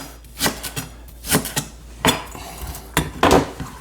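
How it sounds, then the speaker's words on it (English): A knife slices leeks into half-inch pieces on a cutting board for potato, leek and lentil soup, sounding as a series of close, crisp chops in an uneven rhythm, with no talking. "all you want to do is just slice them into, I don't know, 1/2 inch little pieces"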